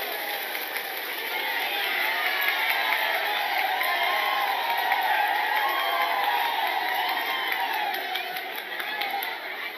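Audience at an Islamic women's sermon gathering breaks into sustained applause and cheering, a dense, steady crowd roar filling the room for the full stretch without a break.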